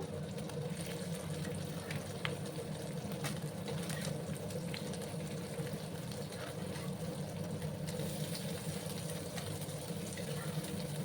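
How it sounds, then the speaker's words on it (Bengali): Chapila fish frying in a pan, a faint, even sizzle holding steady throughout with a few light clicks, quiet and alone with no voices. "আর এদিকে আমার মাছগুলো ভাজা হতে থাক।"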